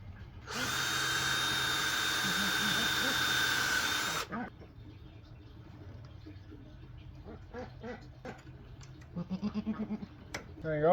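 Goats bleat at a small farm, several short calls scattered after a long loud whir of a power drill driving a screw, ending with a close rapid bleat; a person talks quietly in between.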